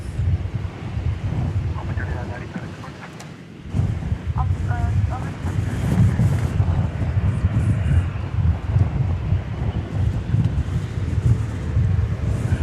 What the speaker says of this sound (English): I wish there was a windsock around here where I could kind of illustrate how briskly the wind is blowing at this moment.